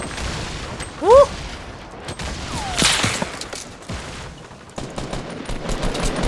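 Grenades and gunfire in the Fortnite video game: a crackling volley of shots with a dull blast over steady battle noise, and a voice briefly exclaims.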